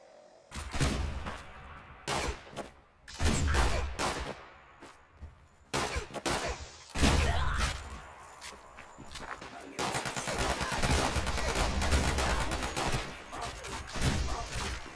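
An instigating Gauss shotgun firing repeatedly in the video game Fallout 76, a series of loud, sharp blasts and heavy thuds in irregular bursts, mixed with footsteps and impacts.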